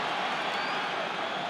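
A rugby stadium crowd roars in approval of a penalty decision during an Ireland versus Australia test match, a dense, sustained wash of cheering from a large crowd.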